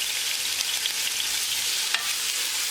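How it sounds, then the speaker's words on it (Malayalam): Sliced onions sautéing in a pan with salt for chicken biryani, a steady, close hiss of frying with a light stir scrape near the end, no voices. "നന്നായിട്ടൊന്ന് വഴറ്റിയെടുക്കാം."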